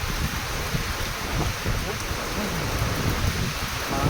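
Heavy monsoon rain driven by strong wind on a Philippine farm, a steady dense roar of downpour with gusty rumble throughout, close and continuous, with no voices over it.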